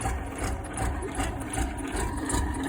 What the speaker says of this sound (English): You can tell it's idling a little rough.